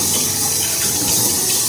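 Warm water runs steadily from a tap to sterilize a baby bottle, giving a constant, fairly loud rushing hiss with no talk.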